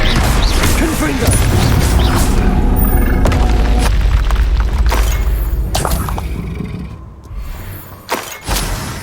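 A Confringo blasting spell goes off in the Hogwarts Legacy video game as a loud, deep boom with crashing, shattering debris, followed by lighter clatter and thuds as the blast fades.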